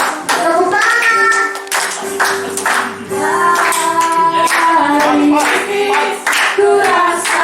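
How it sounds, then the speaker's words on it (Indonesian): A group claps their hands in rhythm at a church gathering while singing goes on, with steady loud claps and voices together close by. "Tepuk tangan."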